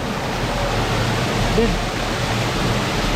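Water rushes with force through a check dam on the Palar river in a constant loud roar, broad and unbroken like a torrent pouring over a barrier.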